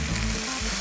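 Bitter gourd (goya) is stir-fried in a pan for Okinawan goya chanpuru, giving a close, steady, crackling sizzle over a brief moment with no voices.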